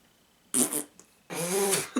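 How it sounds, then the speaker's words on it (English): A fart, loud and close, comes as a short burst followed by a longer rumbling one, with quiet between them. "I'll actually fart."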